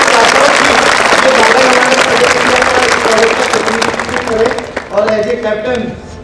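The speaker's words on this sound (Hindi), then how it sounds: "जोरदार तालियां एक बार" Audience at a school gathering claps in a loud, dense burst of applause that gradually thins out, with voices and cheering mixed in throughout.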